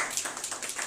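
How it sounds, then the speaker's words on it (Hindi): Brief patter of a few people clapping to welcome a guest in a small live computer class, light and close, lasting under a second. "तालियां एक बार।"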